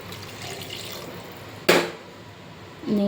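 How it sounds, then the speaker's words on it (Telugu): A glass of water poured into a cooking pot with drumsticks: one short, sharp splash midway through, then a soft continuing trickle against quiet kitchen background. "వన్ గ్లాస్ వాటర్ యాడ్ చేసుకుంటున్నాను."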